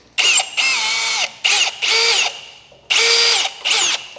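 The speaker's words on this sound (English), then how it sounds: "drill out these rivets" A power drill whines in several short bursts while drilling out rivets on a motorcycle frame, revving up and cutting off repeatedly, loud and close, with brief pauses between.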